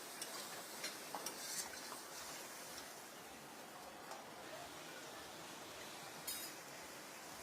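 Mutton cooking in a pan with water being added, a steady broadband sizzle and stir with faint clinks, moderately quiet and alone without talk.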